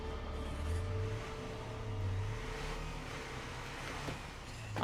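A car engine drones in the State of Decay 2 video game, with low rising and falling revs repeating as it drives, steady and moderately loud with no talk over it.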